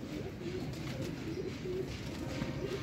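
Soft, low coos from rare black pigeons kept on a rooftop in Sialkot, Pakistan repeat a few times over a steady outdoor hum, fairly close but quiet.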